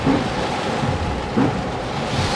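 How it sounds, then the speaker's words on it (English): Steady broadband rain patter, fairly loud and continuous, with a low rumbling wash underneath, heard from inside a Mitsubishi i-MiEV electric car. "Here comes the rain."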